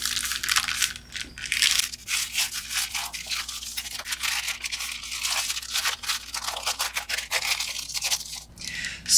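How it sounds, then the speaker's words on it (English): Journaling paper envelope being folded along pre-folded lines, a continuous run of close, crisp paper crinkling and creasing with scratchy rubbing textures, fairly quiet and with no talking. "now it's time to go ahead and fold on our pre-folded"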